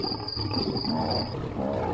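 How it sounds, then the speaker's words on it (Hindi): A lion's roar sounds from deep in a forest as an effect in a bedtime story, a continuous low rumbling growl filling the whole stretch under a thin high insect-like whine. "कहीं दूर जंगल की गहराई में शेर की दहाड़ सुनाई देती है, ऊंची, डरावनी"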